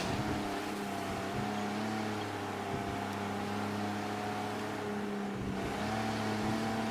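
A battered car driven in the Mafia video game, its engine a steady droning hum with a low tonal rumble that runs continuously at constant speed, with no one talking.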